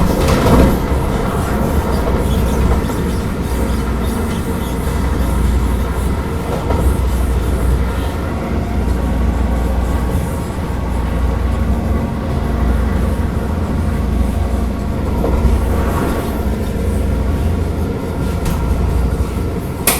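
Vande Bharat Express train between Patna and Howrah running at speed on rails, a continuous loud rumble with steady wheel and carriage noise and faint clickety-clack throughout, with no voices.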